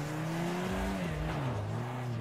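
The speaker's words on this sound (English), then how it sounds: "there I go, crashing the car again" A car engine in a VR racing game on Oculus Quest 2 drones steadily with its pitch sliding down and back up, a continuous game-audio hum with no voices.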